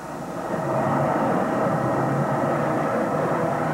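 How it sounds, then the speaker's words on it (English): Gentry turbocharged engines on a 50-foot offshore racing catamaran give a steady, broadband grumbling roar that swells early and then holds constant at a distance, with no voices. "the grumbling sound of those Gentry turbocharged engines announced themselves early on as having a lot of horsepower"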